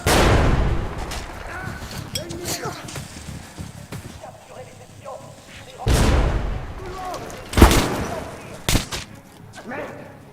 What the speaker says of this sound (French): une grenade